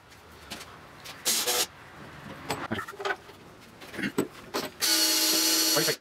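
Power drill driving a 1.5-inch screw into a wooden CNC gantry part with a cross dowel underneath, whirring in several short bursts and then one longer sustained run, close and loud.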